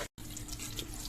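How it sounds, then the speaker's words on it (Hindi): Water gushes steadily from a tap while plates are washed, a dense close splashing stream that cuts out briefly at the start, then runs on unbroken with no talk. "अभी जो है ना ये प्लेटें वगैरह धोता हूँ"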